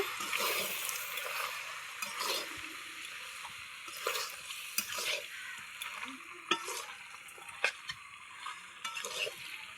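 Spoon stirring mutton curry with pre-fried potatoes in a pan, scraping and sizzling in a steady irregular rhythm, close and moderately loud.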